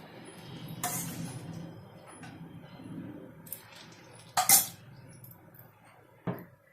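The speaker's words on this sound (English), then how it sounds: "now we're going to add a few of these toasted croutons" Toasted croutons are dropped into a bowl of vegetable soup, with a few separate clinks and knocks of dishes and cutlery spread over a quiet background, close and sharp, with no talk.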